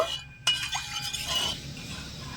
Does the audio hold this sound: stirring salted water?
yes